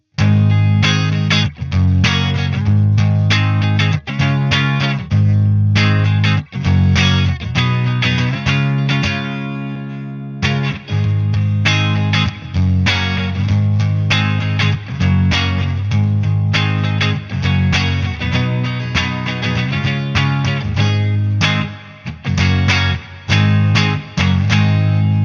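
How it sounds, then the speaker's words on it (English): An electric guitar plays through a Carvin X1 all-tube preamp pedal, with a TC Electronic Hall of Fame reverb switched in through the effects loop. The strummed chords and riffs are loud and continuous, with a brief pause midway. "Now halfway through the playing, I'll kick in the effects loop, which has a TC Electronic Hall of Fame reverb inside it."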